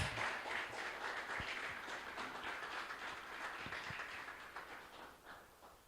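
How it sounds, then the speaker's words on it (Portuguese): A church congregation applauds in a large hall, a dense wash of clapping that begins loud and slowly fades, heard from some distance. "E uma salva de palmas ao Senhor Jesus."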